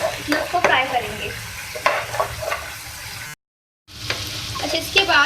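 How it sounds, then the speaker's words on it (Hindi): Masala sizzles and fries in a pan while a spoon stirs it, scraping and clinking in irregular bursts over a steady crackle, with a brief gap of silence partway through. "और इसकी जो स्मेल है कच्चापन है मसाले का खत्म करना है हमें, इसमें उसको फ्राई करेंगे।"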